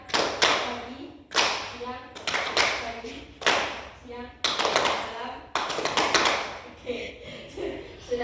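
Children at an orphanage classroom session clap out a rhythmic hand-clapping chant, with repeated bursts of sharp claps in quick clusters alongside their chanting voices, close and fairly loud throughout.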